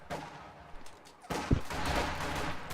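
Infantry rifle fire in a World War II real-time strategy game, Conscripts shooting at Volksgrenadiers: scattered shots under a low rumble, then a denser burst of gunfire with one loud crack near the middle.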